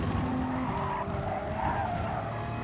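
An Audi race car in the GT Sport racing game skids under heavy braking, its tires giving a sustained rough screech over the engine drone, moderately loud and continuous for a few seconds without speech.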